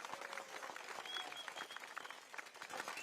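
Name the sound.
audience applause at a political rally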